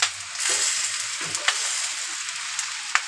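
Morola fish frying wrapped in banana leaf, a soft even hiss of hot oil with a few sharp crackles and pops, close and moderately loud, with no voices.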